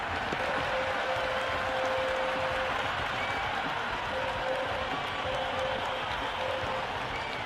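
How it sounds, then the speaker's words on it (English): A cricket stadium crowd cheers a six in a Cricket 26 India versus South Africa T20 match, a continuous loud roar of voices and clapping that never lets up. "all these spectators here today completely enthralled and energised, judging by that noise anyway"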